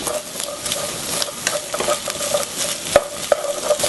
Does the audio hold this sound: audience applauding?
no